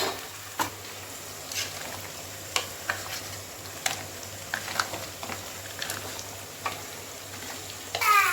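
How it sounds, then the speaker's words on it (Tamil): Tomatoes sautéing in a pan for a home-cooked crab and fish curry meal, a soft steady sizzle broken by occasional scraping stirs and clinks, with a low hum beneath. "தக்காளி வதங்கட்டும்"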